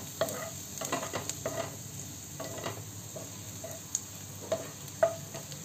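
Finely sliced garlic sizzles quietly in oil in a pan, with a soft, steady frying hiss. A spatula stirs and taps against the pan now and then, fairly close, and no one speaks.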